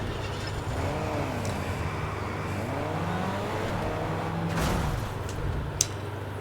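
Cars drive in a Tokyo escape room puzzle video game, a steady engine drone with rising and falling revs running throughout, with a brief louder swell near the end.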